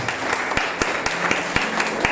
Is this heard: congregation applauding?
yes